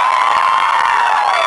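Concert audience cheering and screaming continuously, a dense high-pitched roar of many voices held steady and loud throughout.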